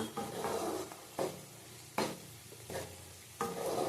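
Cumin and ginger paste stirred into cauliflower and potatoes frying in a pan: a steady sizzle broken by four or five scraping spoon strokes against the pan, close and fairly quiet, with no talk.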